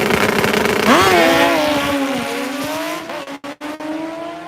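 Hayabusa motorcycles launch in a drag race, a loud high-revving engine climbing and shifting with rising whine and a steady drone, then clipped, sharp dropouts as the run carries on.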